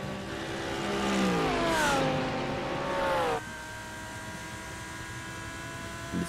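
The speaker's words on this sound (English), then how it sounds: "Listening to that fantastic roar of the Lamborghini engine as Azrael Nazli comes into the braking zone here." Lamborghini GT3 race car at Monza, engine roaring loud and close as pitch climbs through gears, then dropping sharply and settling into a steadier lower drone while braking.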